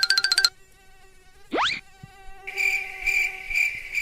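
A cartoon mosquito's buzz in a Hindi comedy cartoon, a short rising whine swooping upward once, then a steady high buzzing drone that lingers under a musical tone, with no talking.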